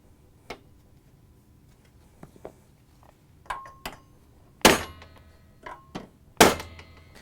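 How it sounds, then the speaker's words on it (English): A hammer taps a rubber suspension pad into the base plate of a Whirlpool washer. Several sharp knocks come at irregular intervals, close and fairly loud, the two strongest near the end, with quieter ticks between them. "line up the holes and tap it in with your hammer"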